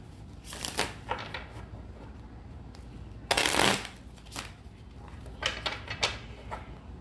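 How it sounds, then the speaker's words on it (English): Tarot cards shuffled by hand in a kitchen, a few separate bursts of quick riffling, one longer and louder than the rest, close and fairly quiet with low room noise between. "Let me shuffle."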